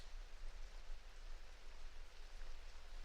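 Steady rain falls continuously, a dense even hiss with a low rumble underneath and no voices.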